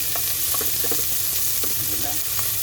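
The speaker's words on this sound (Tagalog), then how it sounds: "gigisa lang po natin yung luya, tanglad, lemongrass po, paulo ng sibuyas" Ginger, lemongrass and onion sautéing in a pan, a close, steady sizzle with repeated light scraping strokes of stirring throughout.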